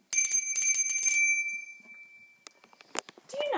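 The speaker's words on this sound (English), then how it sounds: "That's right, it's a bell." A small bell rings out in three quick bright bursts, its tone lingering and fading, followed by a few faint clicks and soft rustling.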